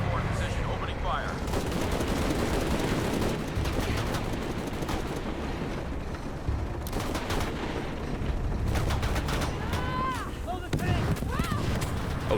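Helicopter gunfire in the video game Shadow of the Tomb Raider: dense, continuous rattling bursts over a constant roar, with a few whistling electronic tones near the end.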